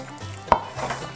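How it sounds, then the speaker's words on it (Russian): A single sharp knife chop through duck meat on a cutting board, close and quiet. "Теперь нарезаем мясо вот произвольными кусочками."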